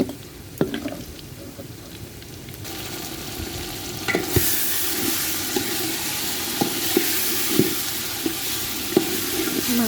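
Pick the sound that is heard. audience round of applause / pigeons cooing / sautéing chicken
sautéing chicken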